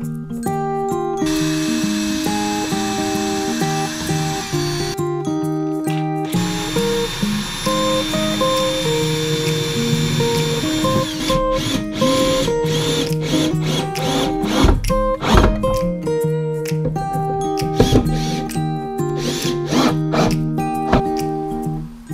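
Screws driven into plasterboard while fitting a bathroom sink and vanity unit: a powered driver whines loudly and close in repeated bursts, with short pauses and changing pitch as each screw bites.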